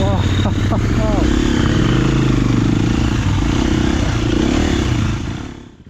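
A Triumph Scrambler 1200 XE motorcycle roars steadily along a muddy off-road trail, its loud engine drone holding for several seconds and then fading out. A voice speaks briefly over the engine near the start.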